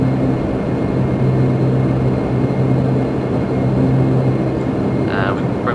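Turboprop propellers of an aircraft in Flight Simulator X, a Jersey to Manchester flight, hold a steady, loud, droning engine hum with low tonal throbbing that continues unbroken throughout.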